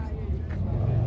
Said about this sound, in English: A little rev battle.